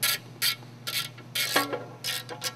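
A ratchet drives the Allen screw that locks a bellhousing dowel pin into an engine block, giving short bursts of close metallic clicking with brief pauses and a faint squeak, no voices.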